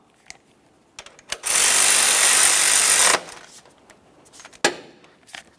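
A power tool snugs the 12mm mounting bolts of a serpentine belt tensioner on a 2012-2015 Honda Civic 1.8L I4, with a loud close whir of about two seconds framed by light metallic clicks and handling knocks.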